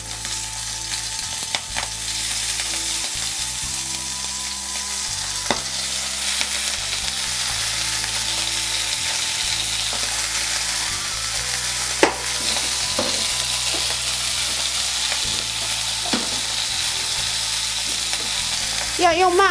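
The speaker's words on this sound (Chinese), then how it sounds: "现在可以把生蚝加进去煎了" Starch-coated oysters pan-fry in oil over low heat, a dense, continuous sizzle with scattered pops and occasional stirring or utensil clicks, heard close and alone.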